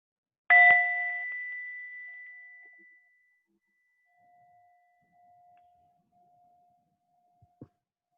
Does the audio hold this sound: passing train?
no